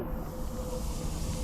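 Steady broadband hiss of steam venting from a steam locomotive on a Welsh Christmas mince pie express, loud and continuous with no voices.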